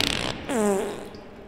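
A single cartoonish fart effect from the video game Toilet Simulator, a short buzzy, wavering tone lasting under a second over a steady background hiss.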